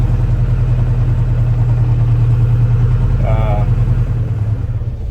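A farm tractor engine drones at a steady, loud, close low pitch from inside the cab while raking hay, with a brief higher whine partway through and the engine easing slightly near the end.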